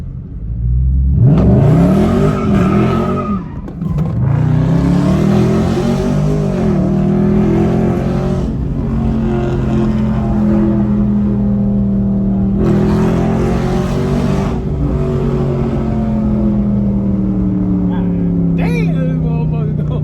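A 2020 Dodge Charger Scatpack widebody with a muffler delete revs hard nearby, with a loud raspy roar rising and falling in repeated pulls over a steady idle rumble while people talk over it.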